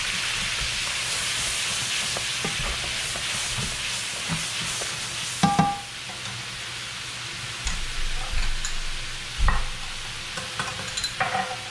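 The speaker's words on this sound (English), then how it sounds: "we want to scrape all those nice caramelized little bits off the bottom there" Caramelized bits scraped off a pan bottom while white wine and golden raisins deglaze it, a steady loud sizzle and hiss broken by a few sharp scraping knocks of the utensil.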